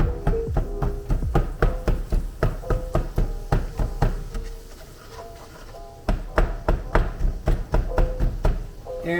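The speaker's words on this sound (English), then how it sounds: "And we chop it up." Knife chopping ingredients for chili on a cutting board, a steady run of sharp, close knocks in quick rhythm, with a short pause midway before the chopping resumes.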